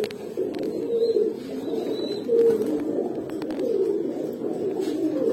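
Pigeons of the Pankhi, Grizzle and Baghdadi Homa breeds coo in a low, rolling, continuous chorus, several birds close by and overlapping throughout.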